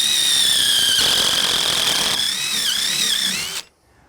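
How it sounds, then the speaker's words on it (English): A power drill bores a deep angled hole into shed wood with a loud, close, sustained high whine whose pitch wavers as the bit bites, then stops abruptly. "we're drilling such a deep hole"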